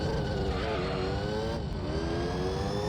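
A TVR Griffith sports car engine in Gran Turismo 3 holds a loud, steady, buzzing drone with bright harmonics. The pitch dips and climbs slightly as the revs shift, without a pause.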